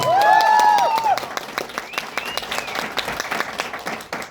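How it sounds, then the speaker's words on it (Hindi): Audience applause at a corporate gathering of a direct-selling company at a Kathmandu resort hotel. Scattered, uneven clapping and some crowd noise follow a brief loud whistle or cheer at the start. "जोरदार तालियां आप सबके लिए।"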